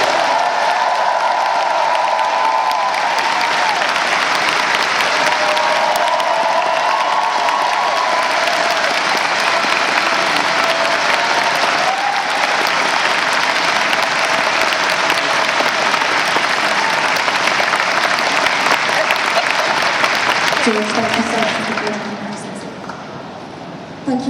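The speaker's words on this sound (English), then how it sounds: "Did you hear that oh my applause?" A convention audience at Destination Star Trek 2019 welcomes George Takei with loud, sustained applause and scattered cheers that hold steady for about twenty seconds before tapering off near the end.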